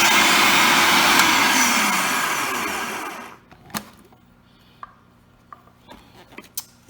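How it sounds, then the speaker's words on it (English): A food processor whirs loudly on high, blending roasted red pepper hummus in a steady dense roar for about three seconds before cutting off, followed by a few small clicks and knocks. "food processor now. Go ahead and mix those on high."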